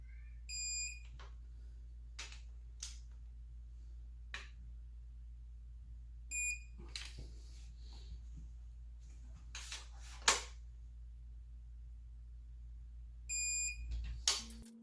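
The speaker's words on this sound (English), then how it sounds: "It will beep when it's get to that torque." Several short bursts of high electronic beeping from a digital torque wrench tightening Ford head bolts, clustered in groups spread across the clip, over a steady low hum and faint clicks.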